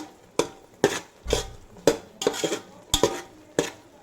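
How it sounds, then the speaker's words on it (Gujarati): Mohanthal mixture being stirred and roasted in a pan over a low gas flame, with about eight crisp metallic scrapes and clinks of a spoon against the pan at a steady rhythm and a faint sizzle underneath. "તે ધીમા તાપે આપણે શેકતા રહેવાનું છે ધીમી આંચ રાખવાની છે ગેસની ફ્લેમની"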